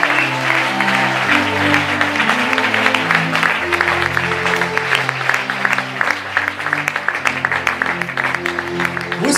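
A church congregation claps steadily and loudly while acclaiming the Lord, the applause continuous and dense over sustained organ or keyboard chords and a hum of voices.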